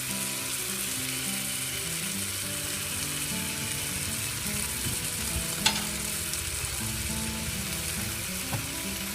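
Spices, including cardamom powder, fry in a pot for Saudi kabsah under a steady sizzle, with occasional scraping and clinks of a spoon stirring the mixture.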